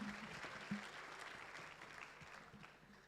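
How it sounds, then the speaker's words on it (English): Faint, distant applause from an audience at an awards evening honouring citizens of the year, a steady patter of clapping that slowly fades. "Let's give another warm round of applause."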